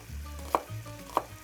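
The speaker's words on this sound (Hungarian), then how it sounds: "Sózom is a hagymát, amikor dinsztelem, hogy ne süljön, hanem dinsztelődjön." Onion sautéing in a pan for lecsó, a low steady sizzle with two sharp clicks of a utensil against the pan and soft stirring sounds in between, close and fairly quiet.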